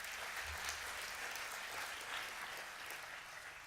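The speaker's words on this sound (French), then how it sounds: "Vous pouvez l'applaudir, bien sûr." Applause from an audience at an awards finale ceremony, a steady, dense wash of clapping that holds evenly for the whole stretch at moderate, somewhat distant volume.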